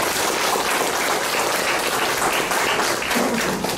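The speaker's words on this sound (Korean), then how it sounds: "힘찬 응원의 박수 한번 쳐주시면 대단히" Lecture audience giving a hearty round of applause at a Korean motivational talk, dense continuous clapping filling the room, loud and steady throughout.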